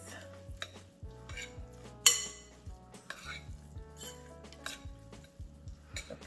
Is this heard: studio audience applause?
no